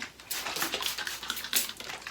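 A spray bottle misting water onto hair while styling a top knot bun, a run of quick, bright hissing bursts close by, fired in an uneven rhythm with no talking.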